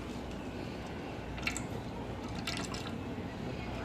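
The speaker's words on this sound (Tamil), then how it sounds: "கடல் எண்ணெயும் தேங்காய் எண்ணெயும் ரெண்டும் சேர்த்து ஊற்றி மிக்ஸ் பண்ணியிருக்கோம்" Peanut oil and coconut oil are poured together into a cooking pot for chicken dum biryani, a quiet, steady liquid trickle with a few soft drips and splashes close by.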